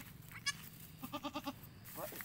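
A goat in labour gives a short series of close, strained bleats in steady pulses, plus a couple of brief cries, while people talk quietly nearby.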